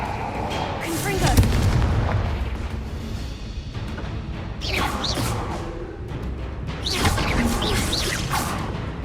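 Confringo fire spells are cast in Hogwarts Legacy, producing three loud booming blasts spaced a few seconds apart, each with a whooshing, crackling burst.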